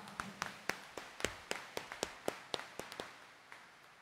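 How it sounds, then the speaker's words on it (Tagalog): Church congregation at a Friday morning Mass in Quiapo clapping, a series of sharp, fairly faint hand claps in a loose, irregular rhythm, heard from a distance with no talking over them. "itaas ang kamay at pumalakpak ng mas malakas"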